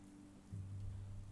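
Steady rain falls outside, a soft continuous patter with a low droning hum beneath it that swells about halfway through, and no voices.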